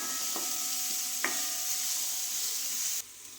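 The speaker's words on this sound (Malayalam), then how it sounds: "നമുക്കിനി എല്ലാം ഒന്ന് ഇളക്കി ഒന്ന് യോജിപ്പിക്കാം" Mustard seeds and chilli frying in a pan for rambutan pickle, stirred with a spoon, with a steady sizzle and a couple of sharp scrape clicks, then the sizzle drops away abruptly near the end.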